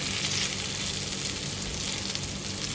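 Taro (arbi) fries on a low flame in a thick-bottomed kadai as it is turned, making a constant, even hiss and sizzle, close-up and continuous with no voices.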